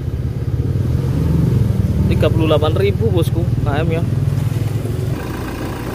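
A 2016 Toyota Kijang Innova Reborn G with a 2.4 automatic diesel idles steadily with its air conditioning on, a low, even rumble that continues under a man's speech.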